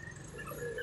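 A puppy whimpers faintly in a short, soft burst of thin, plaintive cries, heard from inside a vehicle stuck in heavy traffic.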